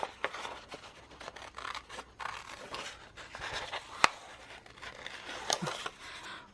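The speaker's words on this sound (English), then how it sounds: "Scissors." Scissors snip through decorative craft paper in a series of short, crisp cuts spaced irregularly between quieter rustling and handling of the sheets.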